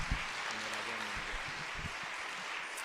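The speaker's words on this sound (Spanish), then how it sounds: "Le damos un fuerte aplauso a María Pilar Aquino." Audience applause for a speaker introduced at a theology lecture, a faint, distant patter of clapping in a room, low and even over a few seconds with a murmur of voices beneath.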